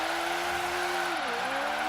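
BMW i8 in the racing game Forza Horizon 3, engine held at a steady high rev while the tyres spin in first gear, the pitch dipping briefly then climbing back; loud and close, with no talk.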